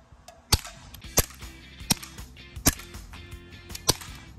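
Daisy BB gun Glock-style pistol fired at targets, five sharp snapping shots spaced roughly evenly, close by, each a crisp pop over faint background noise.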